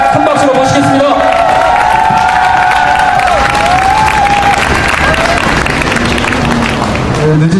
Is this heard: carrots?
no